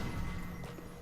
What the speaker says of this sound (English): The thing I like about the Pontiff Knights is they sound like they've got horse hooves